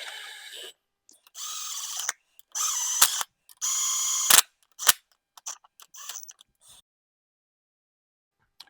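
Bolts are run into the front cover of a 6.0 Powerstroke diesel engine with a ratcheting tool, several short buzzing ratchet bursts separated by silences and a few sharp metallic clicks and clacks, close up.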